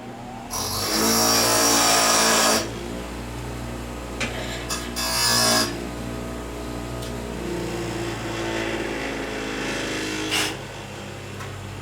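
On a junkyard bullnose Ford project, a power tool grinds down metal to shape a flare: a loud, harsh burst lasting about two seconds, then a shorter grinding pass and a few light scrapes over a steady background hum.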